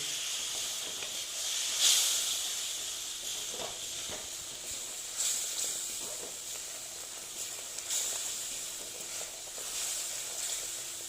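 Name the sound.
spice paste (masala) frying in a pan for aloo dum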